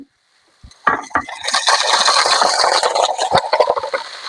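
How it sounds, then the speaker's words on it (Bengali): Leafy greens, including Malabar spinach, hit hot oil in a pan after a short silence, setting off a loud, rising sizzle with utensil clatter and stirring scrapes that continue to the end. "তেল দিয়ে দিচ্ছি। এবার শাক দিয়ে দিচ্ছি।"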